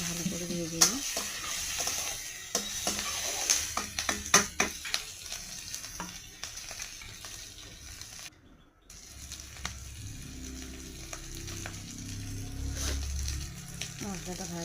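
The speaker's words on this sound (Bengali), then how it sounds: "এই আদাটা দিয়ে নিলাম আর ভালো করে ভেজে নিই" Ginger sizzles and fries in hot oil with onion and chili, spatula stirring and scraping the pan in frequent bursts; the steady frying hiss drops out briefly, then returns with a lower bubbling tone.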